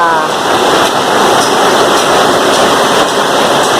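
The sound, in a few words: rain falling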